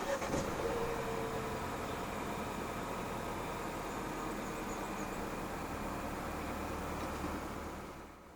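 A 2019 Mercedes-Benz A 200 Progressive Line engine runs at a steady, smooth idle after push-button start, a low even hum under broadband noise that fades away at the very end.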